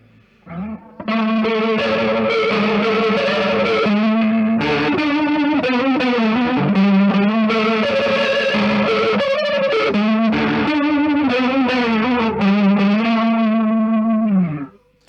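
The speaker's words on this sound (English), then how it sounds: "Sounds great with a little bit of distortion," An electric guitar plays sustained, heavily distorted chords and melodic lines through an effects pedal, loud and continuous with a swirling, psychedelic tone.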